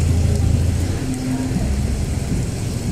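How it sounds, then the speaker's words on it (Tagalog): A steady, dense wash of heavy rain pours down continuously in Paco, Metro Manila, loud and close, with a low rumbling undertone throughout. "Ayun, lumakas na naman yung ulan."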